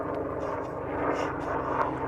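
Low, steady rumbling drone of an aircraft passing overhead at an outdoor gathering with fire engines nearby, continuous and fairly loud with no talk.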